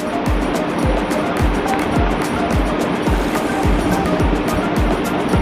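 Fish being washed by hand in running water, a steady loud rush of water with repeated rhythmic splashing and sloshing as the fish is rubbed and rinsed, close up and without talk.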